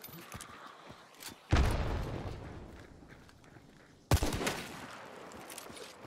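Two loud gunshots in the game Hunt Showdown, one at about a second and a half and another near four seconds, each with a sharp crack and a long rumbling decay over a quieter in-game background.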